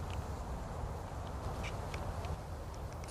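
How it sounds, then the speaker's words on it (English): A male mallard quacks a few times, faint and somewhat distant, over a steady outdoor rumble at a small pool with a reed bed in a country park in winter. "There's a male mallard there and a coot."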